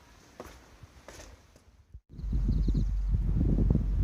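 A pony walks along an Appalachian Trail path, its hooves clip-clopping in a close, steady, uneven rhythm that grows louder after a brief pause, with rustling around it.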